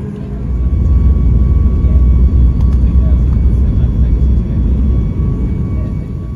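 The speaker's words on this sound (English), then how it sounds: "Here's Bonza Flight AB 1060 arriving from Tamworth." A Bonza Boeing 737 MAX 8 arriving from Tamworth gives a steady, loud, low engine roar that holds evenly throughout, close and continuous, with no talk over it.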